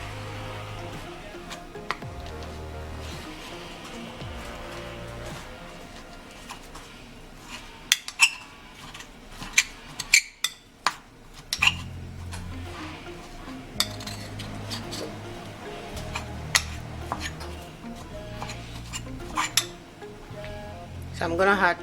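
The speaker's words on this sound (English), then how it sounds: "So I'm gonna mix it together." Spoon stirring corn flour and water in a bowl for ogi, with repeated scraping and sharp clinks against the dish, some louder knocks mid-way, under intermittent talking.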